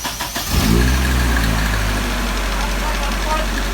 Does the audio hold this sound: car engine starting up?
yes